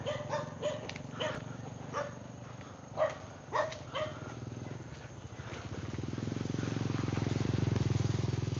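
Dog barking on a farm property in Surat Thani, several sharp barks in a loose series over the first half, then a steady engine drone swells underneath and dominates the end.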